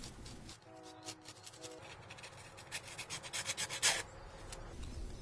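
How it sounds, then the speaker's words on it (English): A Toro snowblower spark plug being cleaned before reinstalling: a series of close, dry scraping and rasping strokes that grow quicker and louder toward the middle, with no talking. "If you're not replacing your spark plug, it's a good idea to clean it up before reinstalling."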